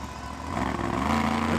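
El Toro Loco monster truck engine running at a Monster Jam skills event in San Francisco, a steady mid-pitched drone that swells louder after a moment, with a thin sustained whine like a belt out of alignment.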